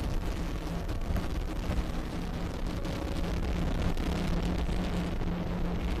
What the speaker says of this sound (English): Ignition. Liftoff of Falcon 9.